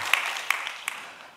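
Church congregation applauding during a service, a short patter of scattered claps that thins and fades within about a second, fairly faint and without talk.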